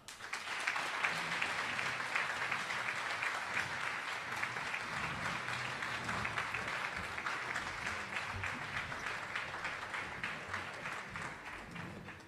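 Sustained applause from an audience welcoming a keynote speaker to the podium, an even wash of many hands clapping for about twelve seconds, moderately distant with no talk.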